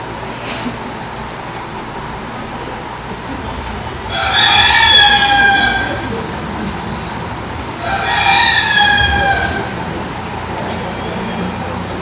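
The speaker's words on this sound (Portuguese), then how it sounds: "enquanto Pedro ainda falava, um galo cantou" A rooster crows twice, loud and drawn out, a few seconds apart, over a low steady background hum during a Passion of Christ performance.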